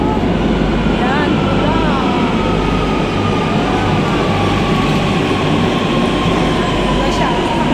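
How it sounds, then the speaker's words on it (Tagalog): A Barcelona metro train running, with a continuous loud rumble and rattling wheels, rising whining tones and faint squeals, heard from inside at close range. "Yun yung train nila dito guys, tingnan mo."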